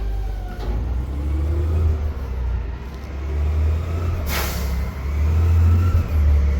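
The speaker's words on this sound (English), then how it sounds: "the garbage man is here. It's gonna be loud." A garbage truck engine rumbles nearby, idling and revving, with a short hiss of air brakes partway through.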